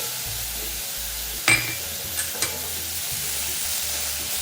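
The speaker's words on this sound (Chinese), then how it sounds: "然后再将所有调味料拌炒均匀" Black pepper sauce stir-fried with sugar, salt, light soy sauce and oyster oil in a pan, making a steady sizzle with a few clinks of the utensil against the pan near the middle.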